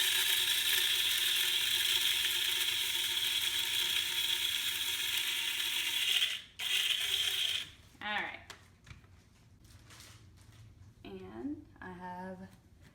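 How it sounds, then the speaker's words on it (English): An electric coffee grinder grinds roasted coffee beans for traditional Eritrean/Ethiopian coffee, a loud steady whirring that runs alone for about six seconds and then cuts off, followed by clicks and a few short bursts with a voice talking. "And I'm just gonna turn my grinder on here."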